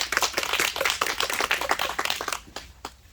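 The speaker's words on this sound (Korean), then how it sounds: "우리 멀리서 오신 그 대표님한테 열렬한 박수 부탁드립니다" An audience claps energetically for a guest speaker at a grape-growing lecture. Dense, close clapping runs for about two seconds, then thins into a few scattered claps.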